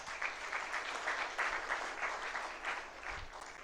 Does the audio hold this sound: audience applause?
yes